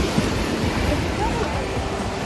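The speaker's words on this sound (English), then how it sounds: "here is the beach" Ocean surf washing onto a beach in Acadia National Park, Maine, a steady broadband rush of breaking water mixed with wind buffeting the microphone, continuous and fairly loud throughout.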